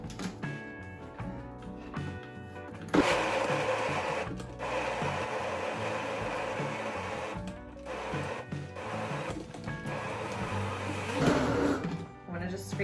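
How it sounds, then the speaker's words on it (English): A Ninja blender blends a chickpea falafel mixture with spices, running in long, loud motor bursts broken by brief pauses, with a person talking over it. "And we'll blend up the second batch."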